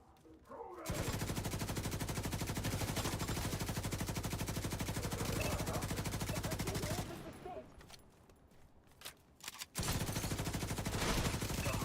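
Automatic gunfire in the video game The Division 2 rattles in long continuous bursts, breaks off briefly with a few scattered shots, then resumes firing hard near the end.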